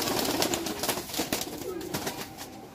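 Old-breed pigeons in a loft in Khorkhori, Rajshahi, cooing together in a dense, continuous chorus with a brief flutter of wings, fairly loud and close.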